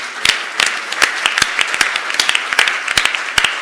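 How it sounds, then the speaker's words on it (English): An audience in a conference room gives a round of applause of thanks at a climate action event, with dense, steady clapping from many hands that carries on throughout at close range. "just a big round of applause to thank you"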